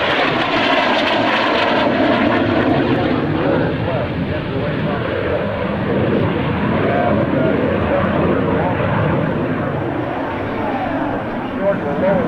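An F-16 from Shaw Air Force Base flies a display at the 2001 NAES Lakehurst airshow, its loud sustained jet roar rising and fading slightly as it passes, steady throughout.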